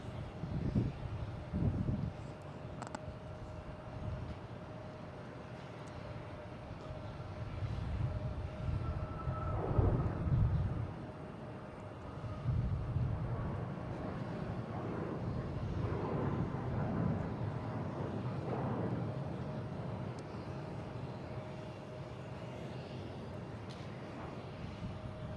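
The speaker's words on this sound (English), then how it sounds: "we got Southwest heading to Austin" A Southwest Airlines jet departs Boston Logan for Austin, its engines a steady low roar of rumbling, swelling thrust that carries on without pause and with no voices over it.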